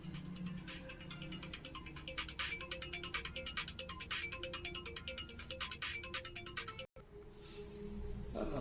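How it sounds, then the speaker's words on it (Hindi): A phone ringtone plays during a Hindi health lecture, a steady repeating electronic melody with a constant pulse for about seven seconds, cut off abruptly, followed by a short rustle of room noise. "एक फोन आ गया था"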